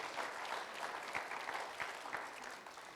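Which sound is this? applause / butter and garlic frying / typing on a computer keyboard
applause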